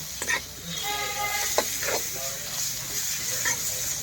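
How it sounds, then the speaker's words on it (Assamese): Bamboo shoot frying with onion and chili in a pan, with a soft continuous sizzle, a few stirring scrapes and occasional clinks while a person talks over it. "বাঁহৰ গাজাটো ধুনীয়াকৈ ফ্ৰাই কৰি লওঁ পিঁয়াজ জলকীয়াৰ লগত"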